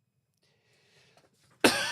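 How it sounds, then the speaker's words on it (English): Near silence with a faint murmur gives way to a single loud, close cough from a newsreader presenting a Saturday evening news bulletin. "I've got so far without coughing, but there we go. This is the first cough."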